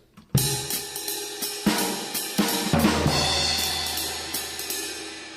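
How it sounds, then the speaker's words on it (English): A sharp drum hit opens into a bright, washing crash that rings and slowly decays, with further drum and cymbal strikes layered through the sustain. "So I'm going to make that long with the cymbal crash."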